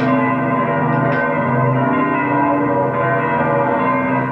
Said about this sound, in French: nous sommes interrompus par les cloches de Sainte-Opportune